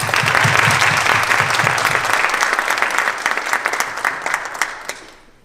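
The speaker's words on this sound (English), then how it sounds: "Let's give her a round of applause." Loud audience applause at a tech recruiting conference, dense clapping from a crowd, close and sustained, thinning slightly before fading out quickly at the end.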